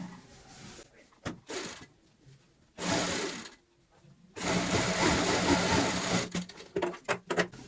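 A sewing machine stitches a cushion cover strip in bursts, with short runs and pauses before a longer steady whir near the end, close by.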